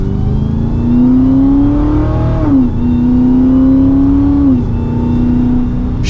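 A 980-horsepower Dodge Challenger SRT Super Stock accelerates hard from second gear, its loud, close engine note climbing steadily and dipping at two abrupt upshifts before rising again.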